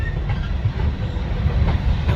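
A slow-rolling coal train passes close by at a campsite in Nebraska, a steady low rumble of heavy wagons with faint rhythmic clickety-clack of wheels over rail joints.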